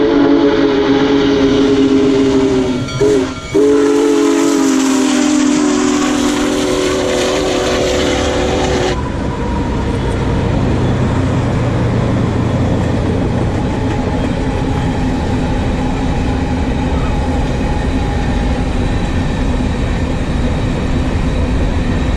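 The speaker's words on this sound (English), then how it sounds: "After that, the big boy really picked up speed." Union Pacific 4014 Big Boy steam locomotive passing at speed on its maiden run across Utah, a loud steam whistle blast up front giving way to a long, steady rumble and roar of the rolling train.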